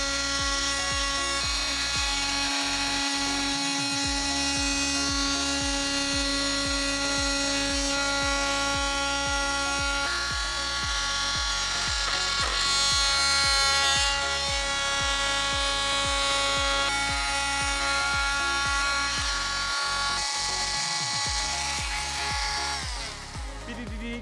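Power saw cutting vinyl plank flooring during an indoor install, a steady buzzing whine that runs through most of the clip with pulsing low rumble, heard up close without talk.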